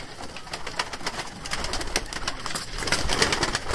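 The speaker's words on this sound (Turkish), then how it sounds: "her yer kuş arkadaşlar" Abdal Arab tumbler pigeons in a loft coo together, a dense layered chorus of soft repeated coos with wing flutters and scratchy movement close by.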